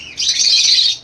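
A lovebird gives a single bright, shrill chirping burst, loud and close, lasting about a second with no talking over it.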